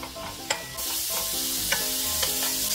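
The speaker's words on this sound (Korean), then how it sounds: "냄비에 참기름 한 큰술 두르고 소고기 250g 넣어줍니다." Beef frying in a tablespoon of sesame oil in a pot, a steady close sizzle with a few sharp clicks of stirring across the stretch, no voices.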